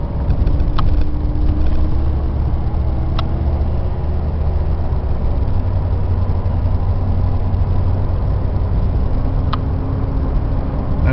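A Dodge passenger van's engine runs steadily on the road, a low continuous rumble with road and wind noise throughout, with no other prominent sounds.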